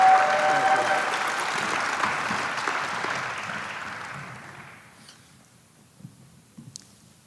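An audience at a Wall of Fame ceremony applauds, the clapping starting full and dense, then thinning and fading to near silence with a few scattered claps and small room noises at the end.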